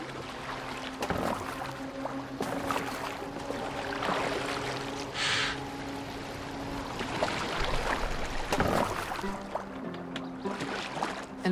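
A boat glides across water in the Viking-era game Assassin's Creed Valhalla, with a steady wash of rushing water and splashing oars under an ambient game soundscape, continuous throughout with a few brief louder splashes.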